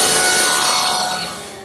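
A table saw rips a strip from a piece of jointed cherry wood, a loud, close, continuous whining cut that fades gradually toward the end, with no voices.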